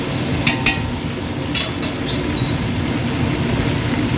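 Tomatoes dropped into a hot pan of ginger garlic paste for a chicken curry, giving a steady close sizzle and frying hiss with a couple of brief stirring clinks near the start.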